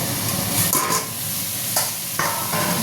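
Ridge gourd and fish egg curry is stirred in a pan, a soft sizzle and hiss punctuated by several scraping strokes of the spoon at an uneven pace, close up and alone.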